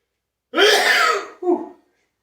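A single loud, explosive sneeze close up in a gym during an incline barbell workout, followed by a short breathy after-sound.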